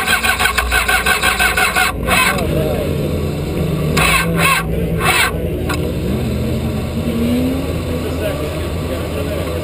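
A Formula SAE race car engine cranks with a rapid pulsing starter, then catches and settles into a loud, steady idle close by, while people talk over it.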